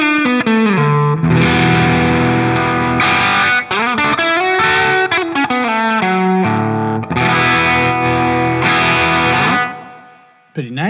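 Electric guitar played through the AmpliTube 5 amp simulator with no compression, heavily distorted riffs and chords with effects, loud and continuous before a brief pause and a final hit.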